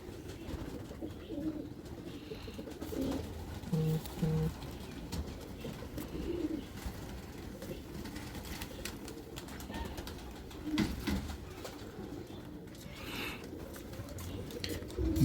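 Soft coos from high-flying pigeons repeat a few times against a busy, noisy outdoor background with low rumble and occasional knocks.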